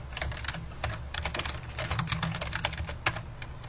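Rapid typing on a computer keyboard while formatting a research paper: a steady stream of close, crisp key clicks in uneven bursts with brief pauses, alone with no talking.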